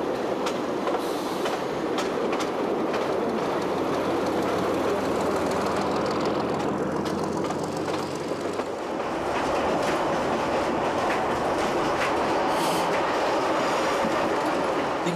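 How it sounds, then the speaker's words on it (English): An elderly Renault railcar on the Tramways de la Balagne line between Île Rousse and Calvi rattles along at speed, a steady loud rumble with clickety-clack wheel noise and some squealing, close and continuous with no voices. "these elderly units often show a very respectable turn of speed as they rattle along some sections"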